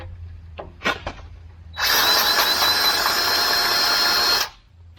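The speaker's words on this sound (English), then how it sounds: "Now with my power grease gun," A power grease gun whirs loudly and steadily for about three seconds after a few handling clicks, close up, then stops.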